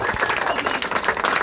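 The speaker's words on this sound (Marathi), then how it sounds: "एकदा जोरदार टाळ्या" An audience gives brief, dense applause, steady loud clapping with a murmur of voices underneath.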